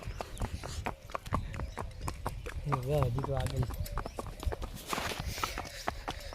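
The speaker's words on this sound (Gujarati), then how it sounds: "બે ઘોડી લઈને નીકળી ગયા છે" Hooves of two mares clip-clop along on a ride, a steady close patter of hoofbeats with a person talking over them and a brief horse snort.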